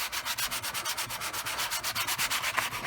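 Steady back-and-forth rasping of a sanding block on wood, in quick even strokes, close and continuous, with no voices.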